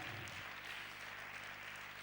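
Congregation at a church service applauding, a faint, distant wash of many hands clapping that continues evenly throughout.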